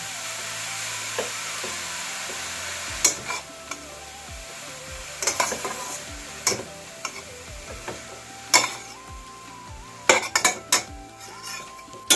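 Grated carrots for gajar halwa are stirred in a pan with a metal spoon, giving scattered scraping clinks and knocks against the pan over a soft sizzle, close by and without speech.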